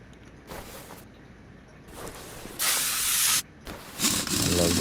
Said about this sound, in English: I love that WD-40.